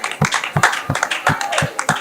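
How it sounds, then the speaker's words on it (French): A small group of students claps in a classroom, the sharp hand claps landing in a loose, steady rhythm at close range for a couple of seconds. "Applaudissez."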